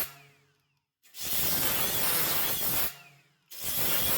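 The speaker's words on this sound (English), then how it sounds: "And then we're going to come back with a flap wheel." A flap wheel on a grinder works the body metal of a 1964 Chevrolet Impala SS, giving two loud, harsh, sustained grinding passes separated by a brief pause while the tool spins down.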